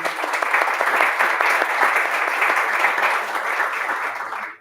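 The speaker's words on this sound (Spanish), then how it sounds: "Un aplauso también para ellos." An audience at a book launch applauds, a steady, moderately loud wash of many hands clapping that holds for several seconds before tapering off.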